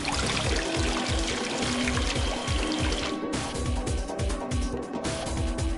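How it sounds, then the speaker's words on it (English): Steady, loud water pouring into a tank in a video game, a continuous gushing stream with a rhythmic gurgling pulse that carries on unbroken throughout. "So you'd use it to pour water."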